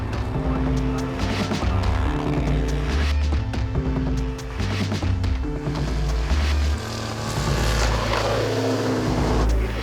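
Racing sidecar outfits, including the number 35 Kawasaki, roar around a road circuit with dense, continuous engine noise, shifting pitch as they accelerate and pass, loud and steady throughout.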